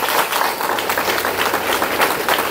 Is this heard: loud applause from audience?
yes